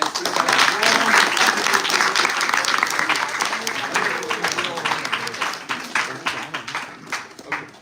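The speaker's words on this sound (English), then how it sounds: "So let's give a big round of applause" Audience at a Hare Krishna devotional gathering applauding: a dense, sustained wash of clapping from many hands that gradually thins toward the end, with a voice speaking over it.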